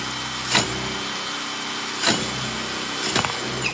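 A drill bit boring through the pins of a lock cylinder, giving three sharp snaps spaced over a few seconds above a steady motor whine.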